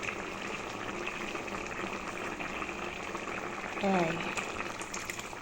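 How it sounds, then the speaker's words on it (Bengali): Tamarind pulp goes into a sour curry of overripe okra simmering on the stove, a steady bubbling boil heard throughout with a brief voice speaking near the end. "তেঁতুল গোলা দিয়ে দিলাম।"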